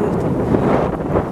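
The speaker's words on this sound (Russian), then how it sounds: "ветер, видите, дует." Strong wind buffeting the microphone at a Spanish beach, a loud steady low rumble with no voices.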